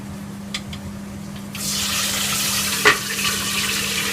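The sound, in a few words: meat deep frying in hot oil for lechon kawali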